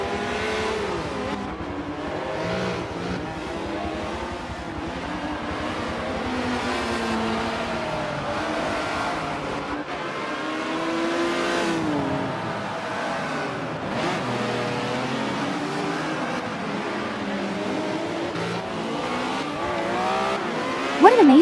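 Race car in the Forza 7 video game at Circuit de Catalunya, engine revving and shifting through gears continuously, pitch rising and falling through corners, with a brief burst at the end.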